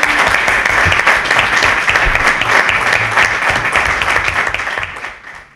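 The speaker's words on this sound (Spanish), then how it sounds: "Le damos un aplauso, ¿no?" Audience at a Cáceres singer-songwriter concert applauds loudly, a dense wash of clapping that holds steady and then begins to thin and fade toward the end.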